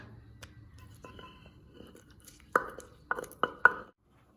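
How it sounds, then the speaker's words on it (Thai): Thai green papaya salad with garlic is pounded in a mortar with a pestle: after a quiet stretch of faint rustling come four sharp, close knocks in quick succession. "เดี๋ยวนางโชว์ฝีมือตำสมตำเองจ้ะ"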